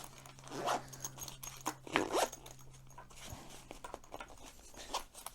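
A zipper being drawn closed on a small EDC charging pouch with a built-in USB-C cord, heard as a few short, close rasping pulls with soft handling rustle between them and no talk.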